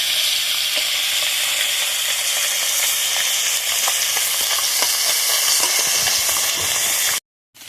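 Fish fry in hot oil for a village-style fish curry, giving a loud, continuous sizzle and crackle close by that cuts off abruptly at the end.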